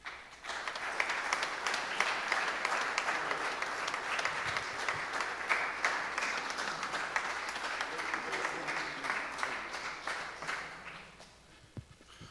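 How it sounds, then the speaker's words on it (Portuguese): Audience at a poetry prize ceremony in a museum applauds an absent winner, steady sustained clapping of a modest crowd at moderate distance, fading out near the end. "eu peço uma salva de palmas para o Ernesto Luís Orozco Román"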